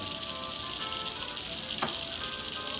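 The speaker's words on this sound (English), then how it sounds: "the technique of running cold water on corn on the cob" Cold tap water pours steadily over blanched corn on the cob in a pot, a continuous close hiss with a faint splash near the end and no talking.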